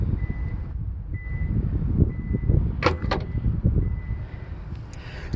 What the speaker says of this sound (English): Four beeps and it automatically opens up by itself.